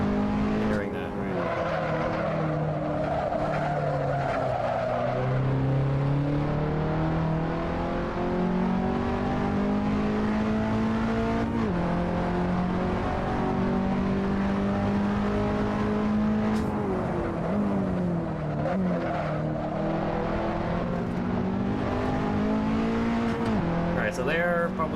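A race car in Assetto Corsa slides with oversteer, its engine loud and close, revving up and down in long rising and falling sweeps with tire noise, while someone talks over it.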